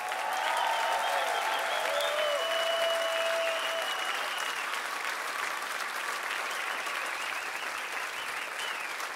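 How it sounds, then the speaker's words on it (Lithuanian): A concert audience at an unplugged show claps for the vibraphone player, a dense steady roar of applause sustained throughout, with faint whistles and cheers early on. "daug plojimų jam prašom"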